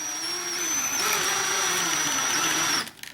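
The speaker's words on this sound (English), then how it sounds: "drill it out just like that." A power drill bores through leather with a steady high whine, its pitch dipping slightly under load, then cuts off abruptly near the end.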